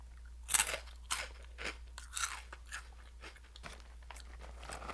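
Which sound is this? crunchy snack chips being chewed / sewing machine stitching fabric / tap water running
crunchy snack chips being chewed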